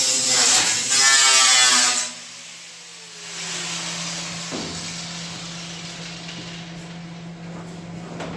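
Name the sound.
cut-off wheel (zip cut) cutting metal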